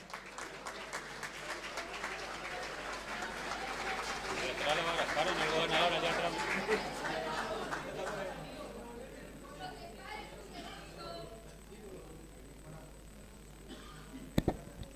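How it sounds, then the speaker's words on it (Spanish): Applause from an audience at a radio station anniversary event and book presentation, a broad sustained clapping that swells and then fades, mixed with crowd noise and a few sharp knocks near the end. "Fuertes los aplausos"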